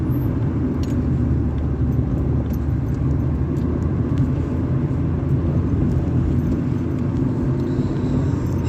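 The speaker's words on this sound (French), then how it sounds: "elle marche bien la voiture" A car rolls downhill along mountain roads in upper Provence, its steady low engine and road rumble droning continuously and fairly loud throughout, with no voices.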